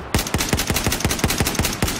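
Rapid automatic gunfire from a weapon in Battlefield 4 during a Conquest multiplayer match on Caspian Border: about a dozen sharp, evenly spaced shots cracking loud and close over two seconds, with no talk.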